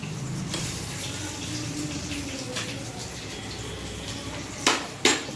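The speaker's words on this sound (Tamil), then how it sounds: "இப்போ தேவையான அளவு புளி கரைச்சி ஊற்றிக்கலாம்" Dissolved tamarind water poured into a pan for South Indian fish kuzhambu, a steady liquid splash running throughout, with a couple of sharp utensil clinks near the end.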